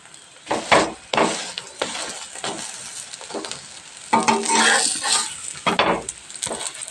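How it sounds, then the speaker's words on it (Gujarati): An aloo paratha stuffed with green chilli roasts on a tava griddle, sizzling steadily as a spatula presses and scrapes it in irregular bursts, close up with no talk. "આપણે શેકી લઈએ તવા ઉપર।"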